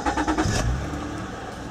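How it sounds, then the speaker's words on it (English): Acura TL car engine starting, a brief cranking whir that catches into a running engine with a short rev before settling to a steady idle, close and moderate. "now let's start the vehicle."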